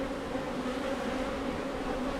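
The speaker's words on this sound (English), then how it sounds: "There are bees on them. They're vibrating it, they're keeping it warm." Honeybees buzzing steadily at an open hive during an inspection, a continuous close drone with a low hum that holds even throughout, no talking.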